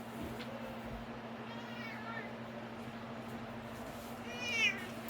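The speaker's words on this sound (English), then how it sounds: "Sorry, that's my cat." A cat meows twice, a short cry near the start and a clearer, louder meow near the end, over a quiet indoor room with a steady low hum.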